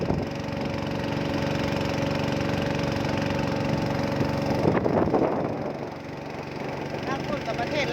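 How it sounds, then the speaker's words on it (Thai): A boat engine chugging steadily on a river at the Thai–Lao border during a festival procession, loud and continuous, easing off slightly near the end. "แม่ขาวกำลังนั่งเรือไปอยู่"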